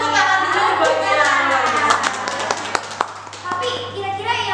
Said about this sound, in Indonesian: Sudah tepuk tangan dulu buat dia.